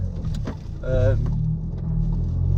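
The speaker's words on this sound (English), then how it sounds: "the note of the exhaust has changed dramatically. It sounds right daft, but it sounds like a 5-pot" The exhaust of a tuned 500+ BHP VW MK7 Golf R fitted with ECS Tuning engine mounts gives a steady, deep low rumble close by, under someone talking.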